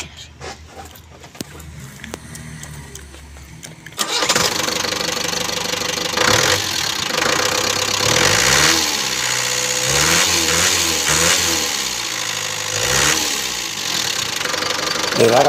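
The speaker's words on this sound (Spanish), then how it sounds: "Le daba yo a parar y arrancar para ver si arrancaba perfectamente" Ford Transit diesel van with a fuel hose fault, its engine starting after a quiet stretch and then running steadily with a rough, knocking idle, loud and close.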